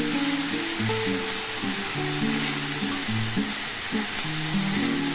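Chopped onion and diced potato fry in a pan with a quarter teaspoon of salt, making a steady, loud sizzle that runs unbroken with no talk, while low tonal music plays underneath.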